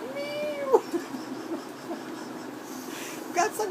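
A cat meows close by in a home, first with a rising, drawn-out call and then a shorter cry near the end, over faint room noise.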